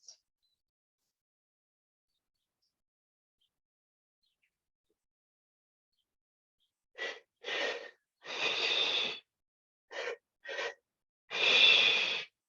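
Deep breathwork in a quiet room: after a long silence, a series of close breaths in and out, alternating shorter and longer draws, each distinct and breathy with no talking.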